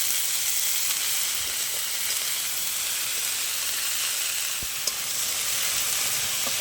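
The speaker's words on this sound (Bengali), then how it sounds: "শাকটা হাফ ভাজা হয়ে গেছে হাফ ভাজা হয়ে অনেকটাই কমে গেছে" Kulfi greens fry in a pan, giving a steady, close sizzle and hiss that runs without a break, with a faint stir clink near the end.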